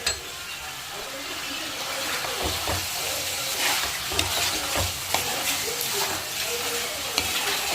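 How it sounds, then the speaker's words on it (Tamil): Pasta with masala is stirred in a pan over low heat, a soft continuous sizzle broken by repeated scraping and knocking strokes of the spoon, close and moderately quiet. "நல்லா அடுப்பை சிம்மில் வச்சுட்டு மசாலாலாம் உள்ளே சாடுற அளவுக்கு ஒரு 2 நிமிஷம் நல்லா கிளறி விட்டுட்டு"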